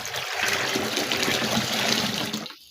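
Water pours and splashes steadily into a basin of freshly picked leaves being washed clean of soil. The rush is loud and close and continuous, then it cuts off near the end.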